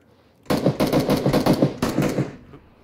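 Rapid automatic gunfire in PUBG, two close, loud bursts of evenly spaced shots separated by a short pause, with no talking.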